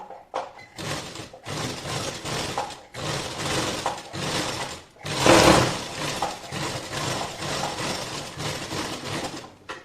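A sewing machine stitches along a folded strip on a blouse with lining and tucks, running in bursts of rapid mechanical whirring and clatter with short pauses between, close and fairly loud throughout.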